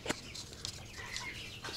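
Chickens in a poultry house with automatic drinkers, giving soft clucks and short chirps at a low level close by, over a faint steady background hum.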